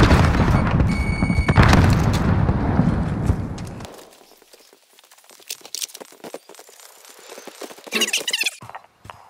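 A grenade explodes in a video game with a loud, heavy boom that rumbles for about four seconds, then fades to sparse game sounds and scattered clicks.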